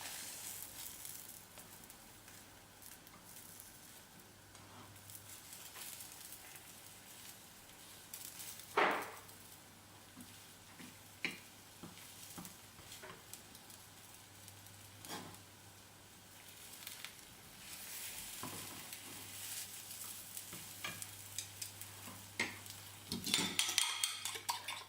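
A tamagoyaki egg omelette cooks in a pan with a soft, steady sizzle, broken by occasional light clinks and scrapes of utensils against the pan and a few louder knocks near the end.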